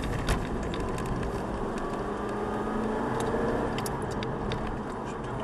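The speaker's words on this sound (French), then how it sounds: "Allez, on prend tranquillement l'accélérateur." An Aston Martin V8 Vantage in third gear on a track driving course pulls away under gentle throttle, its engine a steady, close, smooth roar heard from inside the car without talk.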